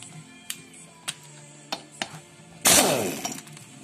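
Metal hammer blows struck through a socket onto a lightly threaded nut while dismantling a Stihl 023 chainsaw: several sharp, evenly spaced taps, then one much harder ringing strike that decays briefly, close and loud.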